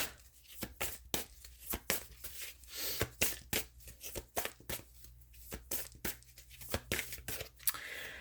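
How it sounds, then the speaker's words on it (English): Repeated crisp riffling and slapping of tarot cards being shuffled, close and uneven in rhythm, with short pauses between bursts. "as I'm shuffling and nothing's coming out"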